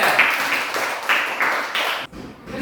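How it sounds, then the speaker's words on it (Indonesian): Schoolchildren in a classroom clap for a classmate, a few short bursts of group clapping in quick rhythm, fairly loud and close, ending abruptly near the close. "Tepuk tangan untuk Amel."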